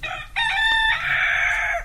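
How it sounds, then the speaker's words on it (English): A cockerel crows loudly and up close in one full cock-a-doodle-doo call, alone with no voices. "I'm here with the cockerel"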